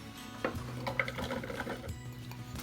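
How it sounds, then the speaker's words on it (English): Food processor pulsing garlic into a paste in a home kitchen, a steady whirring motor with short choppy bursts, close and moderately loud, with no talking. "we're going to use our food processor to chop up the garlic in a nice garlic paste"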